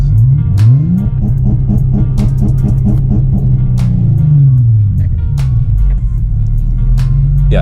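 A tuned Nissan VQ engine revs repeatedly and loudly up against a valet-mode rev limiter, the note climbing and cutting back in a steady stuttering rhythm, close and alone.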